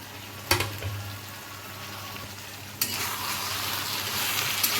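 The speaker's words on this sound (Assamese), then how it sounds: "কচুখিনি মাংসৰ লগত ভালদৰে লৰাই মেলি ভাজি লোৱাৰ পাছত মই ফ্ৰাই কৰি ৰখা আলুখিনি দি দিছোঁ" Chicken pieces cooking with taro and fried potatoes in a pan give off a steady low sizzle and fry, broken by two sharper bursts of stirring or frying noise partway through.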